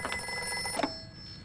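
A telephone bell rings in a rapid metallic trill that stops abruptly partway through, leaving a quiet room tone behind.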